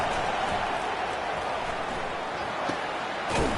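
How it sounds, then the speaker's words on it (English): A football stadium crowd roars steadily through a third-down defensive stand, a dense, continuous wash of cheering and noise with a commentator talking over it. "Decibels rising as the crowd gets behind this defense on third down"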